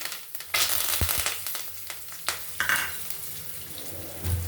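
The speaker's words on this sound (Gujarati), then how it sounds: "હવે નાખીશું રાઈના પત્તા," Curry leaves hit hot oil with popped mustard seeds and asafoetida in a pan, bursting into a sharp sizzle with brief spattering crackles and a faint clink, close and loud.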